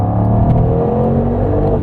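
Engine of a 2024 Mercedes-AMG GT 63, a 577 hp coupe, revs loudly and close in one sustained, rich burst, heard alone without voices.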